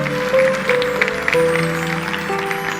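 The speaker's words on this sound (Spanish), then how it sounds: "Dale un aplauso fuerte." Church congregation applauding during a Spanish-language service, a moderate scatter of claps set under sustained music tones and a faint voice.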